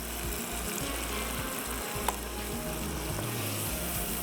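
Yogurt is stirred into a hot cooking pot, with a continuous close sizzle and bubbling and the soft scrape of mixing underneath. A single sharp click sounds partway through.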